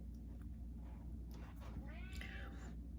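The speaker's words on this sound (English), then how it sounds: "I have a talking cat." A pet cat meows indoors with rising, drawn-out calls near the end, heard over a steady low hum with no talking.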